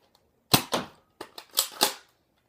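A Nerf gun fires foam darts at a wall: five or six sharp plasticky pops in close succession, near and clear against near silence.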